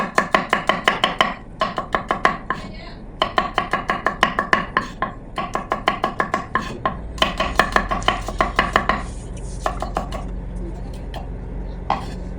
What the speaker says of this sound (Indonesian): Untuk bawang putih saya iris tipis-tipis saja.